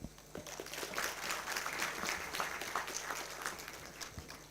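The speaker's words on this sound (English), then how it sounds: "a huge round of applause to the entire editorial team for their dedication" An audience applauds at a school of engineering welcome event, a dense, sustained round of clapping from a large crowd in a hall that holds steady throughout.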